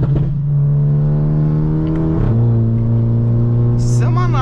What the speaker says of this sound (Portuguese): E essa faixa de giro entre 4 e 5 é a faixa melhor do pipoco, ó.